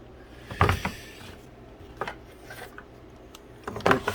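A hand file rasps against the edge of an RC outrigger boat rudder or turn fin in a few short, gritty strokes separated by pauses, close and moderately loud, with no talking.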